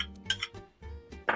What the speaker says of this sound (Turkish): Hemen dolu dolu bir yemek kaşığı tereyağımızı da ilave ediyorum.